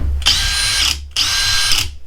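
Two close, loud bursts from a Makita XGT 40V hammer drill set to drilling mode, a whirring motor hum revving up and stopping with a brief pause between.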